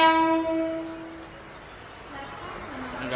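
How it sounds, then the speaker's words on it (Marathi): A train horn sounds a long, steady tone at platform 6 of a railway station as the train prepares to depart, fading into quieter platform ambience before a second horn note rises at the end. "गाडी सुटेल आता।"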